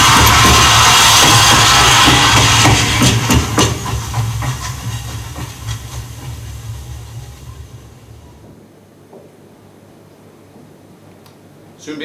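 A steam train arriving: a loud rushing hiss with rumbling and rail clatter that gradually fades away, leaving near quiet before a final short burst.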